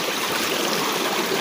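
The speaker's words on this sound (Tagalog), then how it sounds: "Sabi ni Kuya Idol, ito daw yung susundan lang namin yung pinakamalaking ilog dito." Steady rushing water from a large river in the hills, a constant broadband wash close by with no talk over it.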